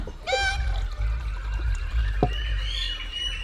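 Water being poured, a brief splashing trickle near the start, then a quieter steady flow outdoors in hot weather, with no talking.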